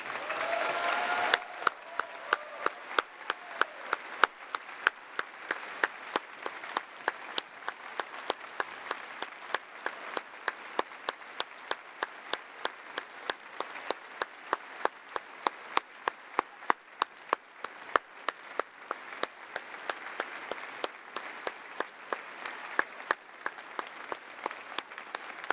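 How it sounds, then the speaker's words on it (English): A Labour Party conference hall audience applauds the departing Treasurer, Diana Holland, in long sustained clapping that settles into a steady rhythmic beat, loud and unbroken throughout. "please join me in giving a huge round of applause for our departing Treasurer"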